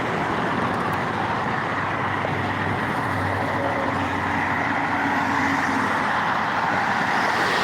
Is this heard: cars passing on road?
yes